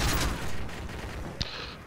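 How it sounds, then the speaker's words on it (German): Gunfire and an explosion ring out in the video game Call of Duty: Modern Warfare 3, a muffled burst of rapid shots followed by a single sharp bang, fairly faint in the mix. "da explodiert einer"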